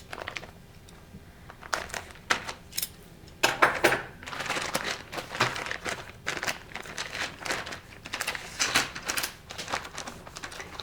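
Plastic packaging for a Jane 8-shaft loom assembly being cut and torn open, with close crinkling, snipping and rustling in irregular bursts, fairly quiet with no talking.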